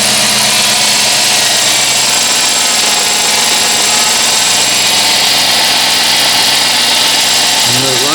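A 2006 Dodge Charger 5.7 Hemi idles steadily up close after a power steering pump replacement, giving a loud continuous engine drone with a hissing, whining layer above it and no break throughout.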